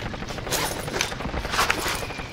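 Dense video game gunfire, rapid rattling shots packed into a continuous loud barrage with no pauses over a couple of seconds.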